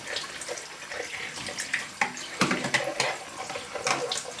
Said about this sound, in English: you can easily clean this with water